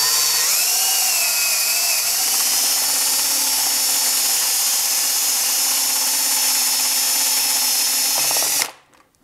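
A power drill with a step bit whines steadily through soft plastic up close, loud and continuous, then stops abruptly near the end.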